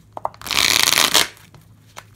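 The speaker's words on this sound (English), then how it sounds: "So, you sleeve your cards like this, and then you shuffle your deck," A deck of sleeved Pokemon trading cards is shuffled in one dense, continuous riffle of plastic-sleeved cards lasting about a second, close and fairly loud, framed by a few light taps and handling sounds.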